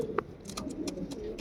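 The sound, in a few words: white pigeon cooing in a cage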